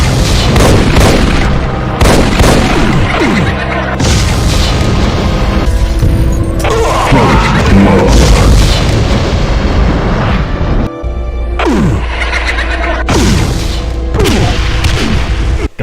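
Repeated heavy booming blasts and crackling fire bursts from Archvile variant flame attacks in a Doom mod, loud and dense throughout with overlapping explosions and game effects, no speech.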